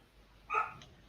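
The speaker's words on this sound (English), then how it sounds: "The dog's going mad because Jen's just come on." A single short dog bark or yip, fairly faint and a little distant, one burst in the middle of a quiet room with no talking.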